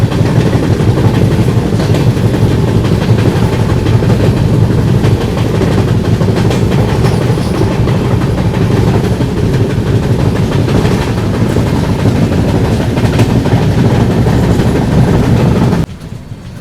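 The Guwahati–Sairang Express rumbles loudly across a railway bridge on the Mizoram route, a continuous heavy roar with rhythmic clickety-clack of wheels on the rails, steady and close for the whole stretch before dropping away at the end.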